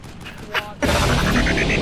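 Gunfire in the video game Arma 2: a quiet stretch with faint clicks, then a sudden loud burst of rapid automatic shots rattling on steadily to the end, with no talk over it.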